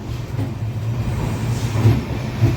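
A train moving through Mayiladuthurai railway station, a steady low rumble with faint rhythmic wheel clatter, close and continuous, with no voices.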